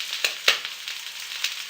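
Rabbit legs sizzling in a pan as a little water goes in: a steady, close hiss of frying with several sharp crackling spits.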